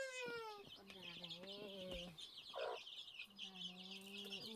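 Chickens cluck and call repeatedly in a garden yard, close and clear, with short repeated notes over a busy background of other birds and rustling.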